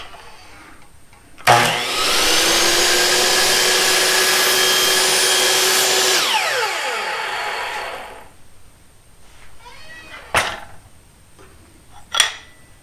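Power saw cutting a 16.5 degree angle in stair trim: a sharp start, several seconds of loud steady whining cut, then the blade spinning down, followed by a few isolated clacks.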